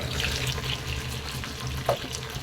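Potato pieces fry and sizzle in a pan as a steady hissing bed with occasional scraping and stirring clinks, close and fairly loud, with no talk.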